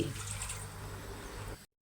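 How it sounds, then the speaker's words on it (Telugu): About two glasses of water pour steadily into a metal pressure cooker, a continuous splashing rush that cuts off abruptly near the end. "కుక్కర్ పెట్టుకొని ఇందులో రెండు గ్లాసుల వరకు నీళ్లు పోసుకోవాలి"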